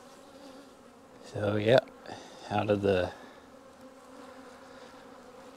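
Honey bees buzz steadily around a hive in spring, a constant near drone that continues under a man's short spoken remark.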